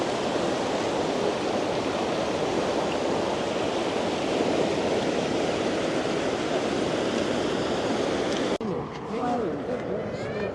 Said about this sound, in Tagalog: Lakas ng daloy ng tubig